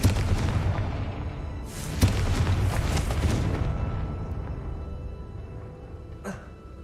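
A Confringo fire spell in Hogwarts Legacy bursts with a sharp blast and a crackling, rumbling tail that fades over several seconds, followed by a later small pop.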